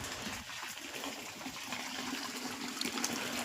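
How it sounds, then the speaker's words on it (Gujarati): Irrigation water trickles steadily through a village farm field of castor plants, a continuous close-up gurgling flow with no talk over it. "અહીંયા પાણી આવે છે થોડુંક"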